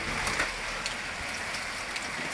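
Rain falling on a street in Pacajus, Ceará, a light steady patter with scattered sharper drop ticks over a soft background hiss, no voices.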